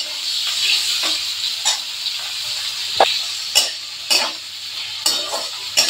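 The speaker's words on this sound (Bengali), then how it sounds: "এটা একটু ভাজা হোক" Onion, tomato and green chilli fry in a pan with a steady close sizzle, broken by several sharp scraping stirs and clinks of a utensil against the pan.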